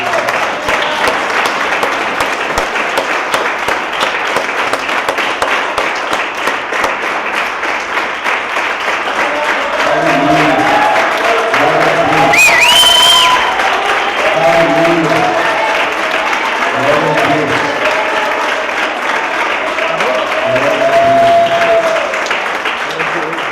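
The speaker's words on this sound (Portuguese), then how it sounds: "Dê um aplauso bem forte a ele no céu." A church congregation at a large religious conference applauds loudly, with a sustained dense roar of clapping and crowd noise throughout and a voice and music rising over it partway through.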